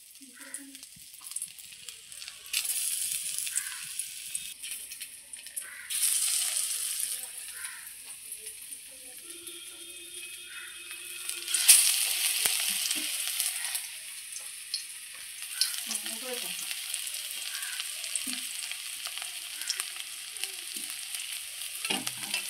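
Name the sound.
sojikochu taro pieces frying in hot oil in kadai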